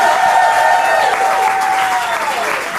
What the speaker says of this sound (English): Give him a round of applause while he runs.